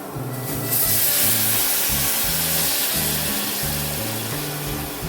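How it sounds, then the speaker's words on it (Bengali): Hot water poured into a pan of frying fish curry sets off a loud, steady rush of hissing steam that lasts throughout, with a low, rhythmic musical backing underneath. "এই সময় আমি গরম জল দিয়ে দিচ্ছি"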